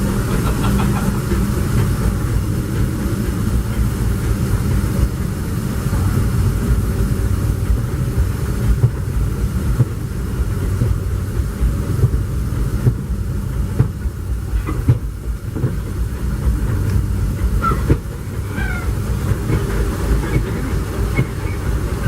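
The Disneyland Railroad steam train, pulled by the Ernest S. Marsh #4 locomotive, rumbles steadily along the track from on board, with continuous wheel clatter, occasional clicks over rail joints and a low, constant roar.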